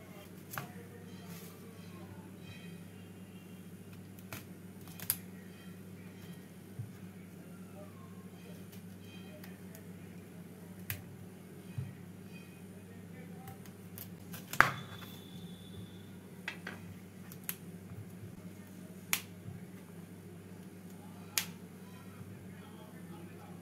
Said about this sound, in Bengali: ফুলকপির ফুলগুলোকে প্রথমে কেটে নিচ্ছি।